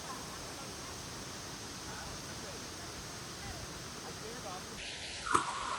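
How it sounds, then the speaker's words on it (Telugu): Heavy rain falls at a waterfall in Malaysia, a steady, dense hiss of water that holds constant throughout, with a brief knock near the end. "ఫుల్ వర్షం పడుతుంది."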